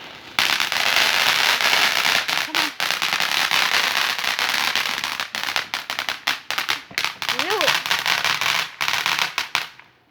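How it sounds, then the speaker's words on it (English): Popper fireworks go off outdoors in a long loud run of rapid crackling bursts with brief gaps, joined near the end by a couple of short whistling sounds. "I think it's one of the poppers."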